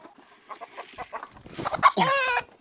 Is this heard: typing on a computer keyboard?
no